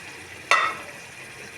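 Kaski fish chorchori simmers in a pan as its gravy reduces, a faint steady sizzle with one brief scraping stir near the start.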